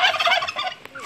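Turkeys gobble close by in a rapid, warbling burst of calls at feeding time, loud at first, then trailing off into a fainter gobble.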